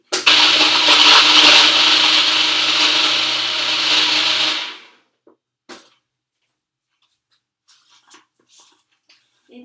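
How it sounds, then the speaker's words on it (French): A blender loudly whirs for about four and a half seconds, mixing raw BBQ sauce with maple syrup in a small bowl, then cuts off, leaving faint clicks and knocks. "Je n'ai plus qu'à visser dessus le socle avec les lames et à mixer."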